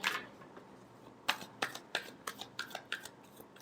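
A deck of tarot cards is shuffled up close, a quick run of crisp riffling flicks and snaps coming in an uneven rhythm, quiet and alone without talk.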